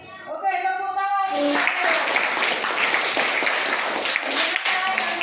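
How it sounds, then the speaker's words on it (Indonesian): Classroom applause breaks out after a student's speech in a school lesson, dense steady clapping from a group of children with some voices at the start. "Oke, tepuk tangan."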